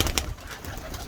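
Pigeons flown at night give a near, soft cooing call over a rough, flapping-like wash, brief and unaccompanied by speech.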